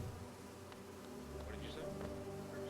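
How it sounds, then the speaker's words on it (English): A dense swarm of bees buzzing inside a hive in a video game, a steady continuous drone with faint voice sounds mixed in. "There's so many bees."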